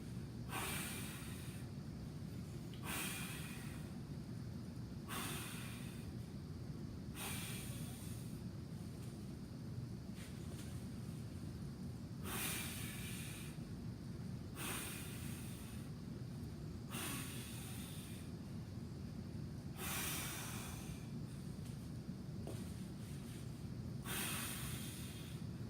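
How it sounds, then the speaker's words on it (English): Deep, slow breaths during a rest between plank holds, roughly a dozen airy inhales and exhales repeating every couple of seconds, close to the microphone over a steady low background hiss. "Rest, breathing in and out as deep as we can."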